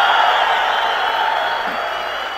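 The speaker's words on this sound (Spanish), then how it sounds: "vamos a hacerles una super ovación" A large conference audience applauds and cheers in a steady, loud roar of clapping and whoops that holds for a couple of seconds.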